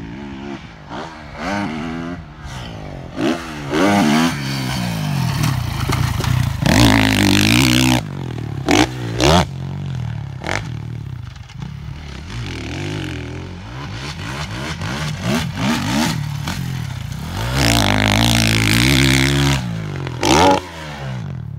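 Supercross motorcycle ripping through a turn and a whoops section, its engine loudly revving and dropping in rapid bursts with clattering and scraping as the bike hammers over the bumps, steady and close throughout.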